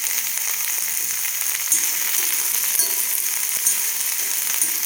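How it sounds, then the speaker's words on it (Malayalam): Ash gourd pieces sautéing in a pan for a Kerala theeyal, giving a steady, loud, close hiss of frying with faint bumps from the pieces shifting, and no voices. "ഒന്ന് നന്നായിട്ട് വഴന്ന് വരട്ടെ."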